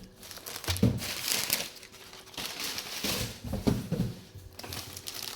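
A plastic bag crinkles and rustles continuously as a Skeletor toy is unpacked, close and fairly soft, with irregular crackling bursts and handling noises.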